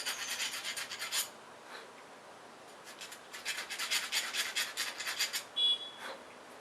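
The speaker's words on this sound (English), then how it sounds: "Lightly file the ID," A hand file lightly deburrs the inner bore of an RLCA rod end bearing insert, giving quiet rasping strokes in two bursts separated by a pause, close and fairly faint, with no talk.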